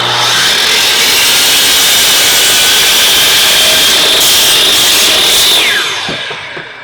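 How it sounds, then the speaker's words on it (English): Power saw cutting a wooden support piece for a weight plate rack, a loud continuous whining cut that holds steady for about six seconds, then spins down and fades. "now I'll cut another piece that will go down here"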